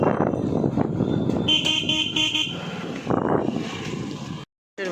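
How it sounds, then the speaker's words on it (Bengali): Cars and motorbikes crawl through a traffic jam on a busy market road in Ballygunge, Kolkata, with several loud horn blasts overlapping midway over a constant rumble of engines and street noise. "রাস্তা কি জ্যাম, গাড়ি ঘোড়া ভর্তি বাবা।"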